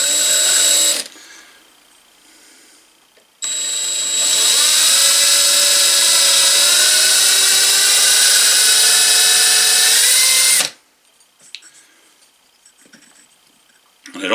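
A power drill runs in reverse on a DIY burnishing tool, a loud close whine with a short burst, a pause, then a steady run of about seven seconds that climbs slightly in pitch before stopping.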